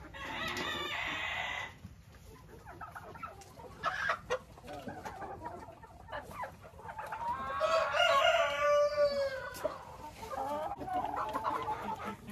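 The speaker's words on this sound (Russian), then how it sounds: "Подозреваю, что это петушок." A young rooster crows among a flock of chickens, with clucking and scattered calls building to a loud, strained crow near the middle and then trailing off.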